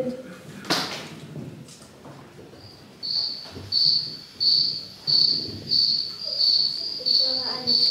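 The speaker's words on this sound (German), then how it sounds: "Ich höre eine Grille." A cricket chirps in regular repeating bursts on a stage during a Lion King production, clear and fairly close, following a short stretch of speech and rustling.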